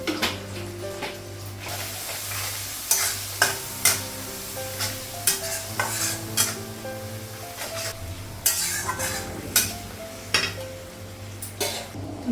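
Cumin seeds sizzle and fry in hot oil in a home kitchen as a utensil stirs them, with steady crackling under repeated sharp scrapes and clinks of metal against the pan.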